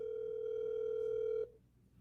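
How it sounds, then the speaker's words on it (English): A steady telephone call tone sounds alone for about a second and a half while placing a call, then cuts off abruptly into quiet line hiss. "Let's call him right now, see what he's up to."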